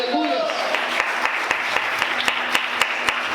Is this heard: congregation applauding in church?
yes